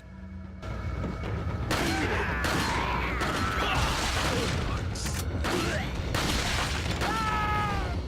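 Red 9 pistol gunfire in Resident Evil 4, several sharp shots cracking out at irregular intervals amid game effects and thuds, loud and close, with a voice speaking between shots.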